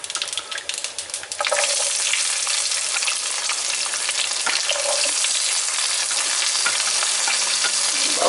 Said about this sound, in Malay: Bawang ni kita nak goreng sampai kuning-kuningan